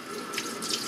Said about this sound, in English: Give it one more rinse